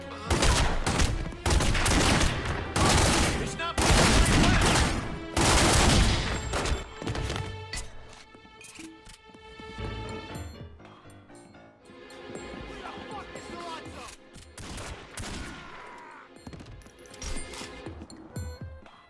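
Repeated heavy gunshots from a magnum and other firearms in The Godfather video game (Xbox 360, 2006), loud bursts clustered in the first half, then sparser shots over game music and background voices.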